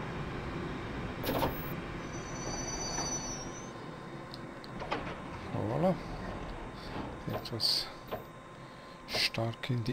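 Bakerloo Line Underground train in Train Simulator braking hard, with metallic squeals and clunks over a rail rumble and a voice talking over it.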